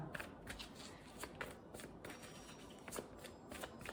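Tarot cards being shuffled by hand, a steady run of soft papery riffles and flicks at close range, fairly quiet, with no talking.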